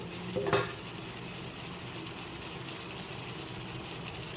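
Potato and pointed gourd pieces are stirred through a turmeric spice paste in a pan, a soft continuous sizzle with a brief louder scrape of the spoon near the start, quiet and without voices.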